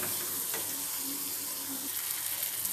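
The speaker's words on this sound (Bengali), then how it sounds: "দেখো এবার পেঁয়াজটা একটু ফ্রাই হয়ে এসছে, আমি এর মধ্যে এবার দিয়ে দেবো আদা রসুনের পেস্ট" Onions sizzle steadily in hot oil with ginger garlic paste stirred in, a close, continuous frying hiss with faint stirring scrapes and no talk.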